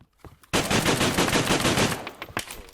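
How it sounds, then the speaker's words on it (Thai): Rapid, loud bursts of automatic gunfire in the video game Eternal Evil, a short opening shot then a sustained rattling volley that tapers into a few scattered shots. "หูยิจนหมดแม็กเลย เสียงปืนใช่ไหม"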